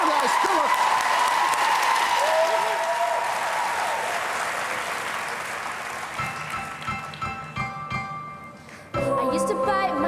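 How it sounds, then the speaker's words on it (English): Loud audience applause and cheering at a talent show audition fills the first several seconds, gradually thinning as music with piano and a singing voice takes over. "let's give a massive round of applause"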